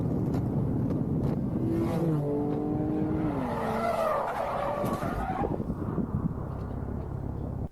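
Tires squeal as a car brakes hard and skids, a rising screech over steady engine and road noise, no talking.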